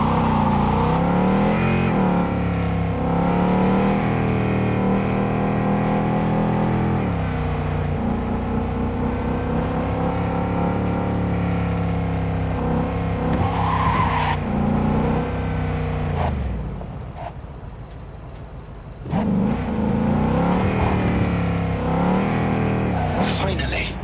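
A car in Cyberpunk 2077 driving hard with a steady revving engine drone and tire noise, briefly dropping away before roaring back, while voices talk over it throughout.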